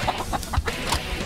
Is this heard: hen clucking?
yes